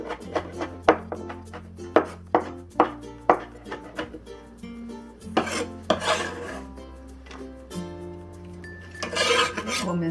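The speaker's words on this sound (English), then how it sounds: "Mince the pickled mustard." Knife mincing pickled mustard on a cutting board, with rapid rhythmic chops and scraping rasps, close and clear throughout, pausing briefly between bursts.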